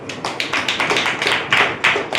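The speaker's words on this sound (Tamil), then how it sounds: "சூப்பர், உண்மையாவே கை தட்டுங்க." Audience in a church gathering clapping together, a dense burst of many hands applauding steadily and fairly close for a couple of seconds with no talk over it.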